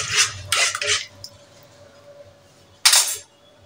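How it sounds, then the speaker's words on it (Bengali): Metal clatter of a lid set onto a cooking pot while making egg biryani in a home kitchen, a few sharp clinks near the start and another short clatter near the end, close and fairly loud with quiet gaps between. "এখন আমি ঢাকনা দিয়ে দেব।"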